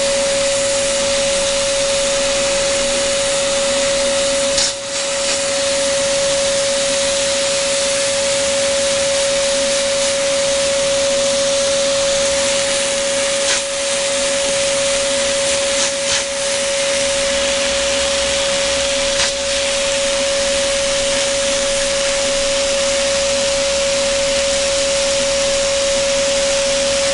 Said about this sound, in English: Pass me the vacuum on this side, on the vacuum from this.